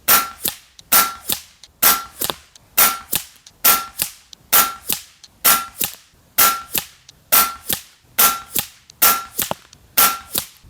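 FX Wildcat .22 caliber air rifle with a 700 barrel fires a string of shots at targets 100 yards away, tuned to 80 bar. About a dozen sharp, loud cracks come at a steady pace roughly every second, with no talking.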